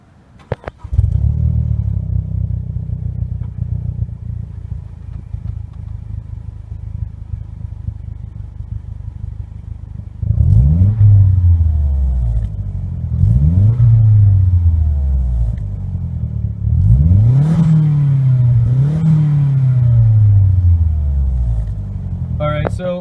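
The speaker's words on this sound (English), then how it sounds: "let's go ahead and hear what that exhaust sounds like." Exhaust of a 2008 Mazdaspeed3 idling with a steady low rumble, then revved hard several times in repeated rising and falling bursts, loud and close.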